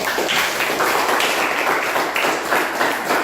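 Classroom clapping during a lesson, a loud, close burst of many students clapping together in a steady rush that swells in waves.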